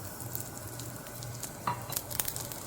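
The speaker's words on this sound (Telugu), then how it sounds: "ఇలా పచ్చిమిరపకాయలు వెల్లుల్లిపాయలు ధనియాలు జీలకర్ర అన్నీ వేసి వేయించుకోవాలి." Green chilies, garlic, coriander seeds and cumin frying in a pan give a soft, steady sizzle with scattered crackles and a few sharp pops, a low hum beneath, no voices.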